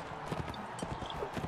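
Horse hoofbeats from the game Mount & Blade Warband patter in a quick, close clip-clop rhythm over a short stretch, moderately quiet, with faint background game sounds.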